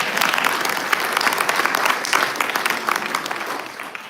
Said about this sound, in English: Y'all can applaud for that.